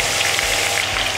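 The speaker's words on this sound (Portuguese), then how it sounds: "Estou a fritar numa temperatura média para ele também não queimar muito de repente" Cod steaks frying in oil at medium heat on an induction hob, a loud, dense, continuous sizzle and crackle with no pauses or voices.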